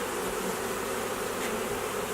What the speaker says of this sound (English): I'm going to shake the rest of the bees, as many as I can get out, into the bottom